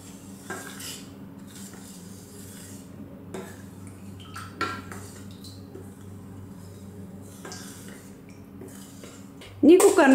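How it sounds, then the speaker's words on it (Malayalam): A spoon clinks and scrapes against a pressure cooker while payasam ingredients are stirred together, with intermittent soft knocks over a low hum, then a sudden loud clatter at the very end. "ഇനി എല്ലാം കൂടി ഇട്ട് നന്നായിട്ട് യോജിപ്പിച്ച് കൊടുക്കുക."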